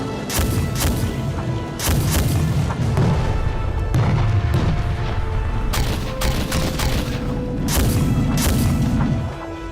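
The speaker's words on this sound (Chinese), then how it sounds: "黄副军长的1号车准备开火" Type 99A tank cannon firing: several heavy booms spaced a second or two apart, loud and close over a continuous rumbling background.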